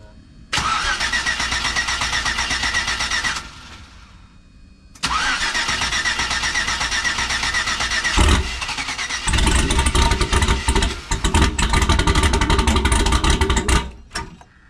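A car engine cranks and catches, runs loud for about three seconds and cuts out, then restarts and revs hard in repeated bursts with rough, uneven RPM, close by, with brief voices in places.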